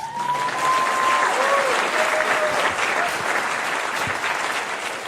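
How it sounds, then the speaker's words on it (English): A crowd applauds steadily at a food policy celebration event, a dense, even wash of clapping that holds for several seconds, with faint voices underneath. "Can we get one more round of applause for the man who has reminded the world that there's an F in FDA, Kyle Diamantis?"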